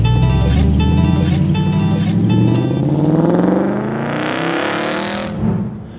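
A 2008 Audi S5 accelerating hard on a country back road, engine rising through the revs in a loud, close pull from inside the car, then a gear change and a burst of throttle near the end.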